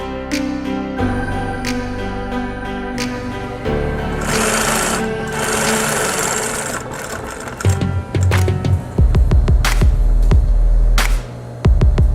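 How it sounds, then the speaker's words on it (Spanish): Sewing machine stitching around the edge of a recycled-fabric wallet, with steady motor whirring in bursts that start and stop, plus some clicks and handling sounds toward the end. "Vamos a coser a todo el contorno y dejando un espacio para darle vuelta."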